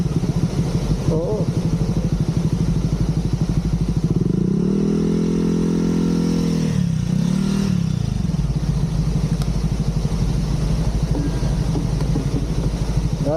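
Motorcycle engine on a group ride to Dingalan, Aurora, holding a steady low drone, then revving up and holding higher midway before dropping back, with people talking nearby.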